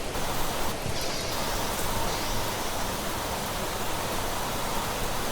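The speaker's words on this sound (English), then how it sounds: "I am also deafened by the sound of heavy rain. That is some really heavy rain" Heavy rain in the survival game The Planet Crafter, a dense, unbroken roar of downpour that stays loud and even throughout with no talking.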